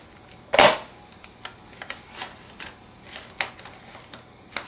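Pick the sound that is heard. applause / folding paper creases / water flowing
folding paper creases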